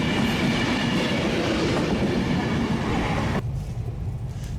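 An Avanti West Coast Class 390 train runs at speed on the London to Birmingham line, heard from on board as a loud, steady rumble with rhythmic wheel clatter that drops suddenly in level near the end.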